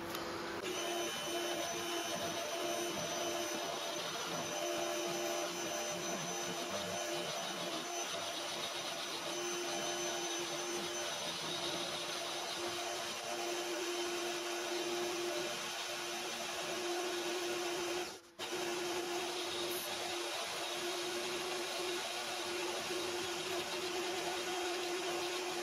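A cast aluminium belt sander drive wheel is machined on a lathe, producing a steady, continuous mechanical drone with a high whine and a constant cutting hiss. It stays nearly unchanged throughout, with one brief dropout near the end.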